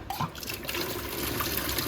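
Tap water gushes in a home as the water supply comes on, a steady near rushing and splashing flow with no pauses.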